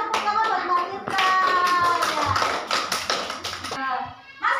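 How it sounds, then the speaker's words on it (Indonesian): A primary school class applauds a pupil, a burst of quick hand claps filling the room for about three seconds between brief snatches of a teacher's and children's voices. "tepuk tangan buat Mbak Tirta"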